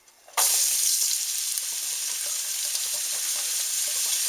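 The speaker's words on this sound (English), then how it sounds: "We're going to put in our mirepoix and garlic." Mirepoix and garlic hit melted butter and fat in a pot and burst into a loud, steady sizzle that holds without a break, with faint stirring clicks underneath.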